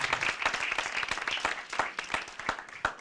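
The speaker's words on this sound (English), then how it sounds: "So give yourselves a round of applause." A small audience in a campus black box theater applauds, with sparse, distinct individual claps standing out over a thinner wash of clapping, uneven and fairly close.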